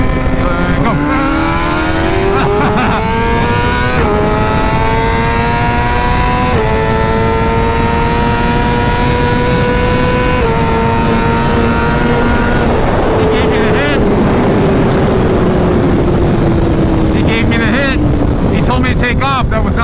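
BMW HP4 Race and M1000RR superbikes race side by side, engines screaming loud and close as they rise through the gears, each upshift bringing a brief dip before the howl climbs again, with some wind buffeting the microphone.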